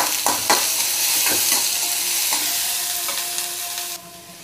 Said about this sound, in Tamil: இதில் இந்த வெங்காயம், கருவேப்பிலை, பச்சை மிளகாய் இதெல்லாம் சேர்த்துடலாம்.